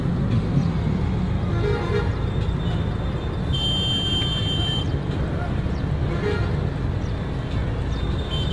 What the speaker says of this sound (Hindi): अब ट्रैफिक धीरे धीरे खुल रहा है